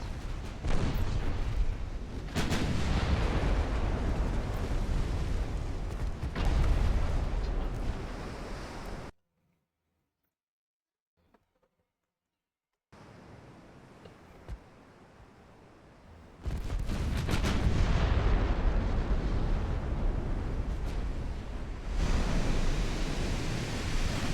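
Naval battle in the video game Ultimate Admiral Dreadnoughts, with battleship gunfire and shell hits as loud, dense booming and rumbling roar that cuts out to near silence, returns faintly, then surges back loud.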